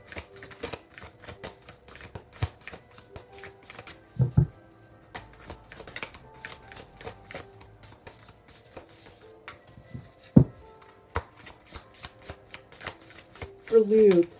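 Tarot cards being shuffled repeatedly in quick riffling bursts, with soft taps and pauses between rounds, close by.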